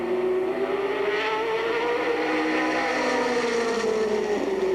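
Stock cars race through a turn in a 1982 stock car race, a loud, continuous engine roar with rising and falling pitch as the bunched pack passes close by.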